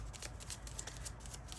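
Tarot cards rustle and riffle quickly in a short burst of soft, dense shuffling up close, quiet and without any talk.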